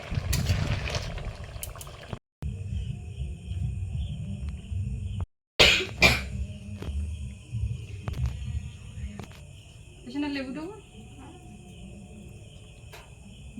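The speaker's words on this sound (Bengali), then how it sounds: "কিছুক্ষণ ফুটে গেছে" Pumpkin and mixed fish curry simmers in a pot with a steady, soft bubbling hiss close by, broken by a couple of brief dropouts, and ends with a quieter, fading boil.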